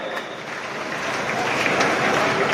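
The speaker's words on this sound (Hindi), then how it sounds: "ये जोरदार तालियां दर्शक साथियों" Loud, sustained applause from spectators at a Senior National Kabaddi Championship match between Services and Pondicherry, a dense continuous roar of clapping that builds slightly over a few seconds.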